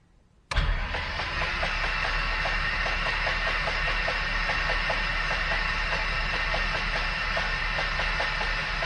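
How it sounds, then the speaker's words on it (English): A Lycoming aircraft engine turned over by its starter with no spark during an annual service, kicking in abruptly after a short quiet moment and then grinding on in a steady, rhythmic churn, close and continuous. "I just wind it over to get the oil pressure up while I've still got no spark"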